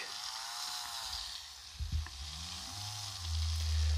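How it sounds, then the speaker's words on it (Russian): A B-30 rotary drill for stone carving runs with a steady, dense whine and hiss that holds constant throughout, with a brief change in load near the middle and a slight swell toward the end. "Можно задать направление вращения по часовой стрелке и регулировать."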